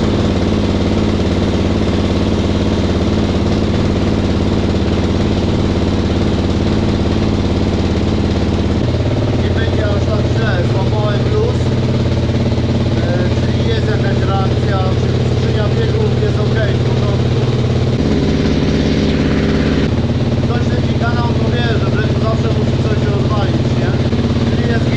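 A BMW car engine runs while warming up, a steady close drone that shifts in pitch and load around the middle, continuous and loud, after a clutch failure.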